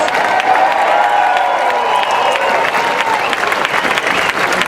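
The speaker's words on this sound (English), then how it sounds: "please get a round of applause for our next generation" Crowd at a water rights rally in Sacramento applauding students, steady dense clapping with some cheering throughout, loud and close.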